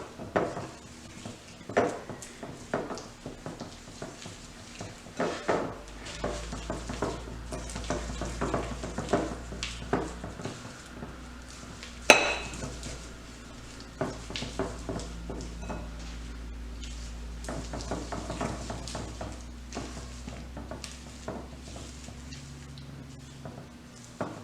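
Butter and sugar mixed in a bowl for peanut butter cookies, heard as soft, irregular scraping and stirring with occasional clinks of a utensil against the bowl, close and quiet.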